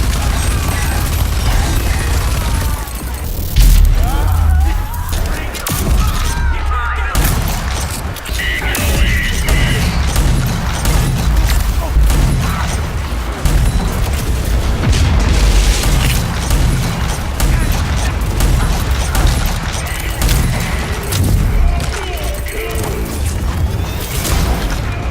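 Gunfire and explosions from the video game RAGE 2 pound steadily for the whole stretch, heavy booming shots and crashing blasts packed close together, loud and dense with no pauses.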